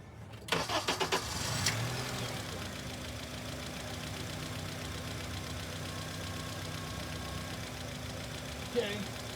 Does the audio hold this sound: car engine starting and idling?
yes